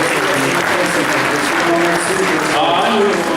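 Audience at a 2011 beauty pageant awards ceremony in Glazov applauding loudly and steadily, dense clapping throughout with a presenter's voice over it.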